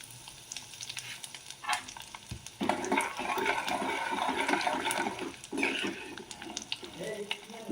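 Urad dal and chana dal sizzling in oil in a pan, quiet at first, then a steady crackling fry that swells loud for a few seconds, with faint stirring and some background noise.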